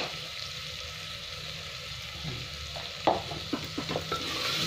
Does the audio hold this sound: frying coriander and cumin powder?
yes